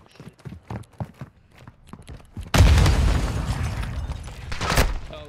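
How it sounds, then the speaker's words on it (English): A frag grenade detonates in Call of Duty DMZ, a sudden loud blast with a rumbling tail that lasts several seconds. Voices are heard before the explosion. "Incoming frag!"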